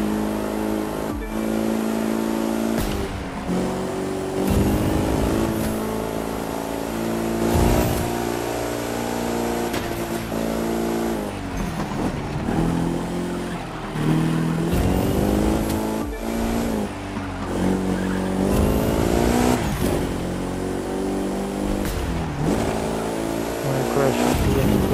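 Race car engines roar continuously in The Crew 2 during a driving race, loud revving that climbs and drops with gear shifts, with occasional tire squeal and a voice talking over the game sound.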